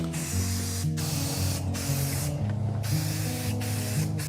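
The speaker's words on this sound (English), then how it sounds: "I hit it with some black spray paint." Black spray paint hissing from an aerosol can onto a pine frame in short repeated bursts, each spray a steady close hiss separated by brief pauses.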